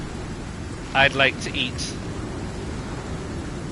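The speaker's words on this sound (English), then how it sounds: "I tell you one thing, the storms are pretty loud" A thunderstorm rages in the survival game Icarus, a dense steady roar of rain and wind, with someone briefly speaking over it partway through.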